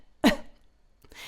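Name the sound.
deliberate cough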